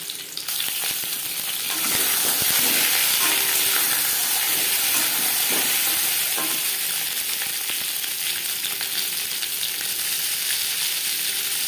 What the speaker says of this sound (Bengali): ডিমের ছাল তৈরি করার জন্য সবার প্রথমে ডিম ভেজে নেব দিয়ে দিয়েছি পরিমাণ মতো রিফাইন অয়েল এবার দিয়ে দেবো ডিম